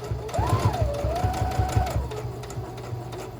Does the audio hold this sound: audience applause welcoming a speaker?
no